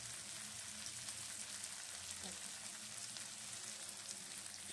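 Onion sizzling steadily in a hot pan, part of cooking an egg tadka, with a dense continuous hiss and crackle throughout and no talk over it.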